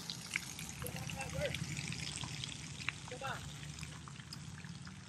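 A splash-pad water play feature at a park in North Las Vegas, Nevada splashes and trickles steadily nearby in a continuous wet hiss, with a brief spoken word and faint voices in the background.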